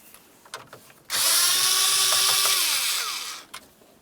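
A 7mm socket on a power driver backs out the mounting bolts of the heater and A/C control unit in a 2003-2011 Mercury Grand Marquis. One steady, close whirring run lasts about two and a half seconds, with faint clicks and handling before and after.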